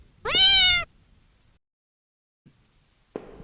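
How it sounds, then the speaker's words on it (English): A cat gives one clear, close meow with a rising-then-falling pitch, followed by quiet and a couple of faint, short sounds, with no talking. "There's a cat."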